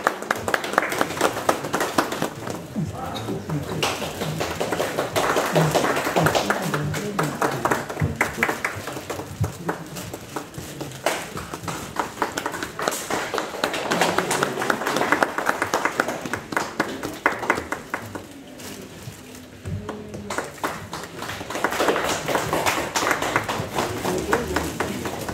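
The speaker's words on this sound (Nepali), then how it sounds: "कृपया गरी हजुर सम्पूर्णले ताली बजाइदिने।" An audience claps steadily at the launch event for a song album, dense applause from many hands continuing at an even level, with some voices underneath.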